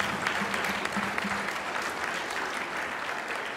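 A crowd of grown-ups and teachers at an elementary school choir evening gives dense, steady applause that fills the room at an even level from start to finish, with a faint murmur of voices underneath.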